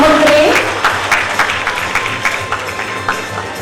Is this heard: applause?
yes